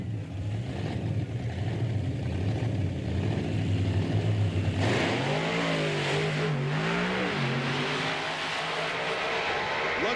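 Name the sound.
monster truck engines revving at the race start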